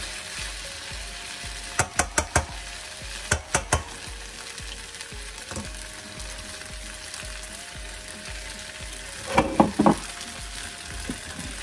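A spatula stirs rice and chicken with parsley in a hot pan, several quick scraping clatters in bursts over a low continuous sizzle, close-up with no talking.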